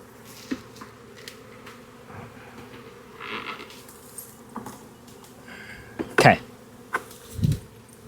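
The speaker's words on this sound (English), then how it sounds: "Lots of bees in the box and possibly the queen too." A low, steady buzz of a bee swarm in a swarm trap box fills the background, with a few louder knocks and bumps near the end.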